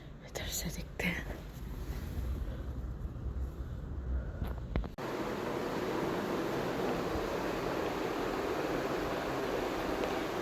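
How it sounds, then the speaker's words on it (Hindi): A strong, hot windstorm blows outside in sunshine. Soft whispery voice noises give way to a loud, steady rush of wind filling the second half. "धूप में ही चल रहा है तूफान, हवा इतनी तेज़ है।"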